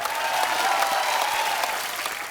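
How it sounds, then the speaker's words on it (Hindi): A TV show studio audience applauds loudly and steadily, welcoming cricketers Shikhar Dhawan, Suresh Raina and Hardik Pandya, with dense clapping sustained throughout and no pause. "आप सबकी जोरदार तालियों के बीच स्वागत करना चाहूंगा"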